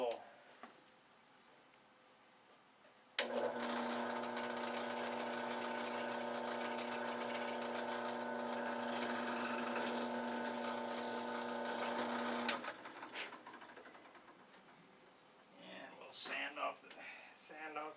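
An electric drill bores a hole through a wooden brush handle, a steady loud whirring drone that starts abruptly, runs for about nine seconds, then stops, with quieter handling sounds before and after.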